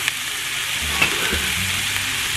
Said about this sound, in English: You're gonna give that a quick stir around